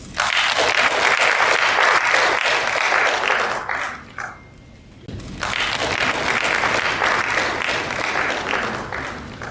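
An audience at an association's annual general meeting breaks into sustained, loud applause. The clapping thins briefly midway, then swells again and carries on, with a faint voice beneath it.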